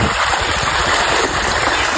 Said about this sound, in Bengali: এগুলো ঝর্ণার পানি।